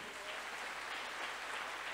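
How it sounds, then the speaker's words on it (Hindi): A large audience at a network marketing motivational talk applauds in a steady, dense wash of clapping, fairly soft and distant, with no voices over it. "एक जोरदार ताली होनी चाहिए"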